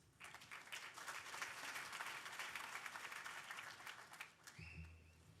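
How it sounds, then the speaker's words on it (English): Hackathon audience applauding at a closing ceremony in New York, a broad sustained wash of clapping at moderate distance that fades near the end as a voice begins. "Please give a massive round of applause for Abstract Wallet."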